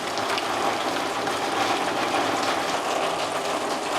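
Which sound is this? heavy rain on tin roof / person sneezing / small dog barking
heavy rain on tin roof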